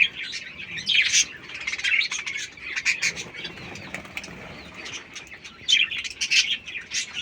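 Budgerigars chirp and flutter inside a small handmade cage, with bright, busy tweets and bursts of wing flapping that carry on steadily and close by.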